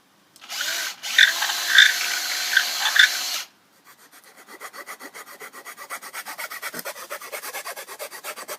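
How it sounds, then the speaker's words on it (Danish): Electric drill boring a hole through a wooden stick for a home-made electric bike, a harsh whirring grind for about three seconds, then a rapid rhythmic rasping scrape building up, close and moderately loud with no talk. "så tager du boremaskinen og borer et hul igennem den her pind her"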